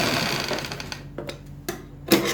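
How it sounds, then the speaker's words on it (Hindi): A sewing machine stitches kameez fabric, its close, steady motor whir running continuously and then breaking into a few short bursts with brief pauses between them. "आप बिल्कुल बराबर से सिलाई मार लें"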